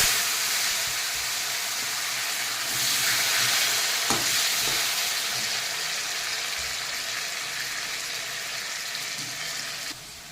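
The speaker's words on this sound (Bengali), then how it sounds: "এখন আমি আলুটাকে ভেজে নেব।" Potatoes frying in hot oil in a home kitchen after fish, a steady dense sizzle running close and continuous, with a brief stir or clatter partway through and no talking.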